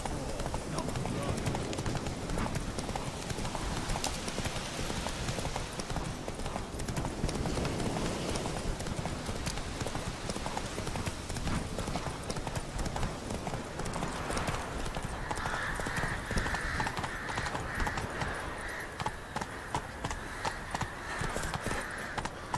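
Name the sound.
Geralt's horse Roach galloping, hoofbeats in Witcher 3 video game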